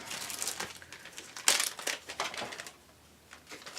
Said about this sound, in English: I like to store them in a little Ziploc baggie